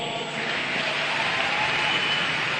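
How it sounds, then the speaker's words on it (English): A church congregation bursts into sustained applause that fills the space with dense, steady clapping and crowd noise, with no clear voice on top. "Please clap for mommy."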